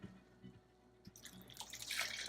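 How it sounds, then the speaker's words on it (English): Water poured into a pot while making clam chowder, starting as faint drips and building into a steady, splashing pour that grows louder toward the end. "And now pour water in that bowl."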